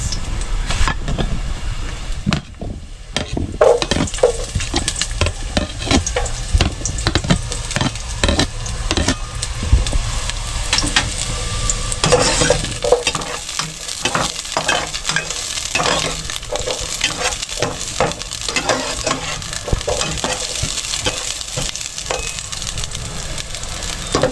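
Chopped onion sizzles in a pan with garlic while a utensil stirs and scrapes it, giving repeated clattering strokes over a continuous frying hiss throughout.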